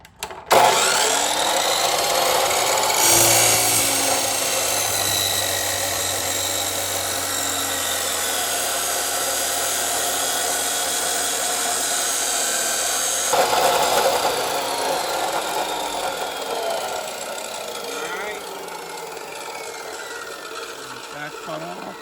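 A power tool cuts steadily through a metal ladder bar bracket for about twenty seconds, a continuous grinding whine with a brief pause and restart partway, close and loud with occasional talk in the background.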